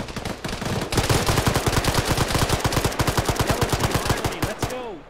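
Sustained rapid automatic gunfire in a military shooter game, loud and close, a dense rattling burst lasting several seconds with faint voices underneath.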